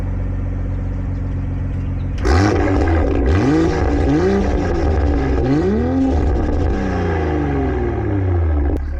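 A tuned 500 hp Stage 2 BMW M340i with the B58 turbo inline-six idles, then revs hard in several sharp rising blips, loud and close, with no talk.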